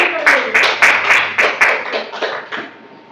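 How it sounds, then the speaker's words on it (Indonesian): A classroom group claps for group 7, about eight bright, brisk bursts of applause fading over a few seconds, close and loud. "Yuk, berikan aplaus untuk kelompok 7"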